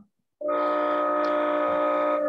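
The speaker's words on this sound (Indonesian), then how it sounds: "Klakson apa itu? Kapalnya mau berangkat tuh kapal. Kapal Pelni." A Pelni passenger ship sounds its horn as it departs, a steady, loud tonal blast that starts abruptly and holds for about two seconds, heard from some distance with no talk over it.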